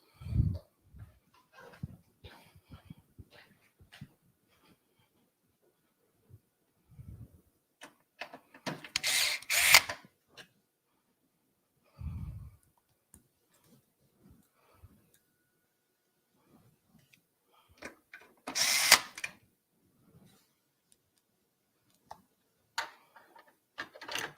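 Screws being driven into a computer motherboard: short buzzing bursts from a powered driver, two stronger runs spaced apart, among sparse small clicks and taps in an otherwise quiet room, close by.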